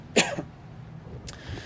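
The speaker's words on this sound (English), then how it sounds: "I'm gonna cough, I think." A single close cough, followed a second later by a softer throat-clearing rasp, with quiet background between them.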